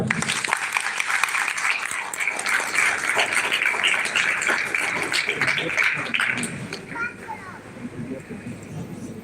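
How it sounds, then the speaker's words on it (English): At a school's annual award ceremony, the audience applauds the parents with sustained, dense clapping that gradually thins and fades toward the end, with some children's voices mixed in. "A big round of applause for your parents"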